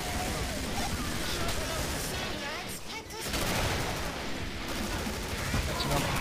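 Rapid hip-fire gunshots from the video game Killing Floor crackle in dense, continuous bursts, loud and close throughout with a brief lull midway.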